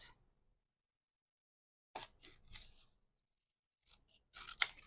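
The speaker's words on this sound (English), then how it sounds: "I'm just going to cut this across, hopefully the best I can" Scissors cut across leftover die cut paper scraps with small heart shapes, giving a few quiet, close snips in short bursts separated by silence.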